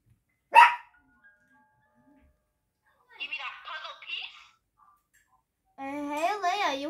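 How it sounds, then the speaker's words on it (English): Household dogs barking indoors, a sharp loud bark at the start followed later by bursts of yapping, with a voice babbling near the end. "We have dogs."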